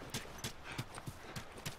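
Horse hooves clip-clopping in the video game The Last of Us, a steady rhythmic clatter of about six hoofbeats at an even walking pace, fairly close.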